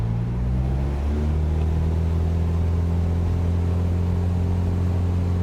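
Aircraft engines spool up for takeoff with the brakes held, a loud, steady droning rumble with strong low harmonic tones that rise slightly and hold throughout.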